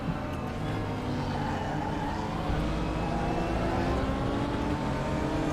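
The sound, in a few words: racing cars' engines in the video game Raceroom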